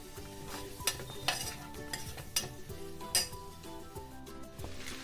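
Mutton biryani masala sautés in an open pressure cooker, a soft background sizzle beneath repeated sharp metallic scrapes and clinks of a ladle against the pot, fairly quiet overall.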